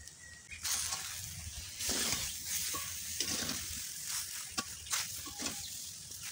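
Raw mango pickle pieces being stirred with salt in a pan, with repeated scraping and rustling strokes at a moderate, uneven pace and a faint sizzle running underneath.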